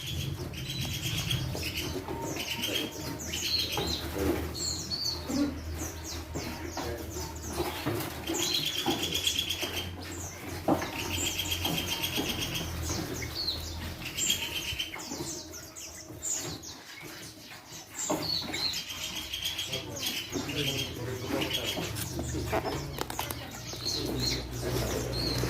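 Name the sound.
masteran songbird (RPP type) singing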